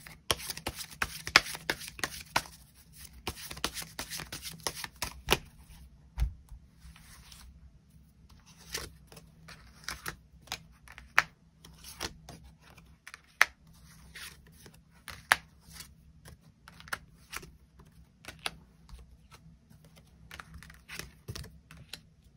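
Tarot cards being shuffled and drawn, a steady run of soft close-up flicks and taps that are quick and irregular, faint and with no talk.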